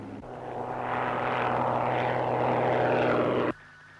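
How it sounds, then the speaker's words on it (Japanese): Propeller airplane from the 1965 film Gamera coming in to land, a steady loud engine drone with low tonal hum that swells slightly and then cuts off abruptly near the end. "着陸します。"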